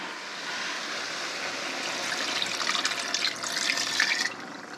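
Apple cider vinegar pours into a hot pot of mango chutney, a continuous splashing liquid stream that grows louder and more bubbly toward the end, with no talking.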